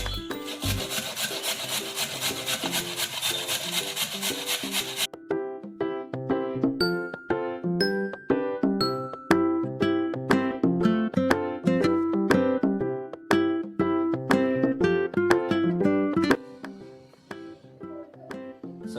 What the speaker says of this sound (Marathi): गाजराचो अशी सगळी गाजरा किसून घ्यायची